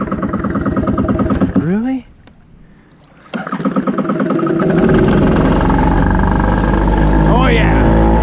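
Jet ski engine cranking and firing after starter fluid is sprayed in, a loud rough running roar that stalls, then starts again and revs steadily close by, with a person speaking briefly.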